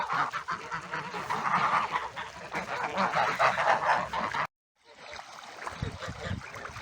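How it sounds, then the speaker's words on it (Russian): Geese honking at a village farmyard on a hot summer morning, a dense, loud flock calling continuously, then a brief gap and softer scattered honks resuming. "Вот еще побольше гуси пришли."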